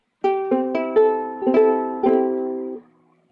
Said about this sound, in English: That's my soprano ukulele.